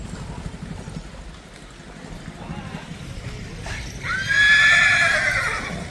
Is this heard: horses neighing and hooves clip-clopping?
yes